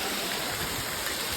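Floodwater rushes along a road during heavy rain, giving a steady, dense hiss with a low gurgle, continuous and fairly loud with no voices.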